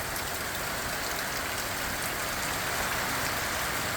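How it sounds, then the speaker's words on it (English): A heavy downpour in Tonga drums hard and steadily, a dense, continuous hiss of rain with no letup and no voices. "That's how strong the wind is today, as well as the downpour."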